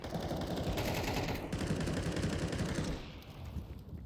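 Rapid gunfire from the Counter-Strike video game at the IEM Rio tournament crackles in a dense, continuous burst for about three seconds, then drops to quieter scattered shots.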